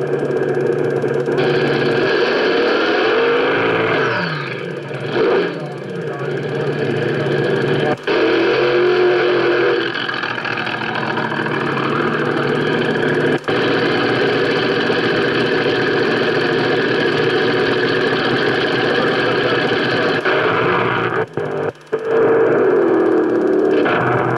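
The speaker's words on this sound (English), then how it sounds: "Jim Reed and his 417 cubic inch Donovan powered dragster Le Patron" Jim Reed's 417 cubic inch Donovan-powered dragster Le Patron runs loud and close, with a harsh, steady engine roar that holds for most of the stretch and breaks off in a few short gaps.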